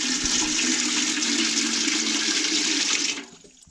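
Tap water pours steadily into a pot for goldenrod tea, a loud continuous splashing rush lasting about three seconds before cutting off abruptly.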